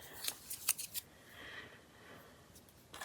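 Scissors snip through an old paper envelope in a few sharp, close cuts, each a crisp crunch, followed by a softer sliding rustle and one final snip.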